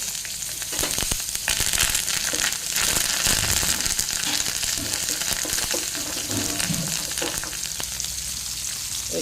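Fish frying in hot oil in a pan, a loud, continuous sizzle and crackle with bursts of spattering throughout, close and steady with no talking.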